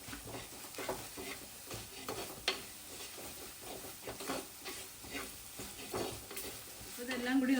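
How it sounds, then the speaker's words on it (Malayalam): Ground spices and garam masala being sautéed with beef in a hot pan for Kerala-style roast, with continuous sizzling and rhythmic stirring scrapes close by, steam hissing near the end; no talking. "ഇനി ഇതെല്ലാം കൂടി നന്നായിട്ടൊന്ന് വഴറ്റാം"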